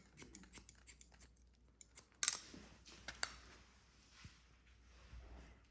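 Scissors snip in quick, light clicks while point cutting gray hair into a pixie cut, a few soft crisp snips close by against near silence.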